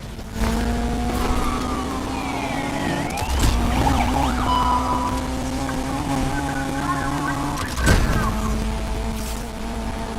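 Police interceptor siren in the racing video game Need for Speed Unbound, a wailing rising-and-falling tone over a loud car engine, with a couple of sharp bumps along the way.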